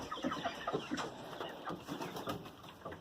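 Chickens on a farm give soft, repeated clucks and low throaty calls close by, irregular and overlapping, over quiet outdoor background with no speech.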